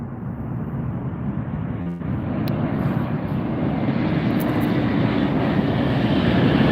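An airliner passing at Las Vegas airport, a broad jet roar that builds steadily and stays loud to the end, heard alone without talk.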